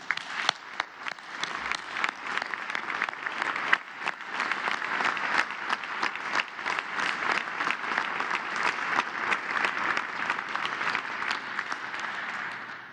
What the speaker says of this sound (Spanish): A todos ellos, también queremos brindarles un fuerte aplauso